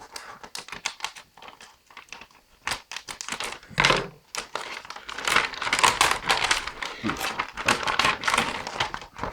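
Paper wrapping on a small package is torn and crinkled open by hand, with dense rustling and crumpling bursts that come and go over several seconds, close and fairly loud.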